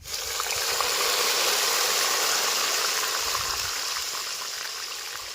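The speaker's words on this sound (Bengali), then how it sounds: "এবার আমরা পেঁয়াজ বেরেস্তার তেলের মধ্যে আদা রসুনের জলটা দিয়ে দেবো।" Ginger-garlic water poured into hot oil left from frying onions gives a steady, loud hiss and bubbling sizzle that holds evenly throughout, with no voices over it.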